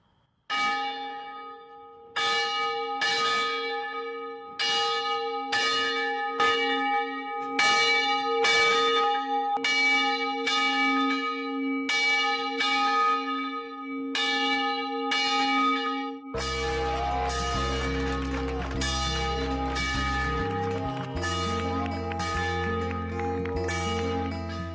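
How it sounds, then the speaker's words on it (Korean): A church bell rings in a 125-year-old bell tower with a tiled hipped-gable roof. Loud, resonant strikes fall one by one at an even pace, then build into dense, overlapping clangor with a long ringing tail and no talking. "특별히 종을 울리는 거룩한 퍼포먼스가 연출되었습니다."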